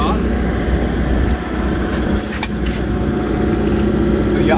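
A steady low diesel drone comes from an MQ Whisper Watt 70KW generator running nearby, continuous and fairly loud, while someone talks over it.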